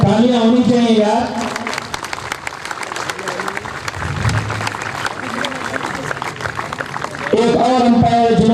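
A crowd applauds the umpires at a T-10 cricket league final, a sustained wash of clapping that swells through the middle, with someone speaking loudly over it at the start and again near the end.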